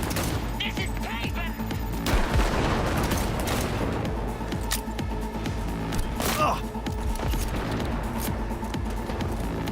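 Gunfire in Cyberpunk 2077 crackles in dense bursts and booming impacts against a thick, busy game soundscape, with shots clustering around the middle and continuing steadily throughout.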